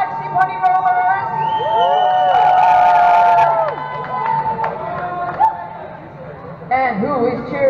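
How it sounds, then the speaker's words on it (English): Crowd at a roller derby bout between the Black Sheep Honey Rollers and the Aces of Pain cheers, whoops and shouts loudly, the roar swelling in the middle, with an amplified announcer voice and whistles over the din. "Who is cheering for the Black Sheep Honey Rollers?"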